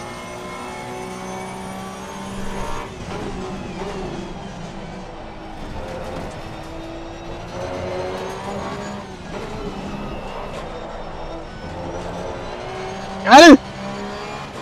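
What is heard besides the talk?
Porsche Cup race car engine in Assetto Corsa Competizione video game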